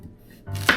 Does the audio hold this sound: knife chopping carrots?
yes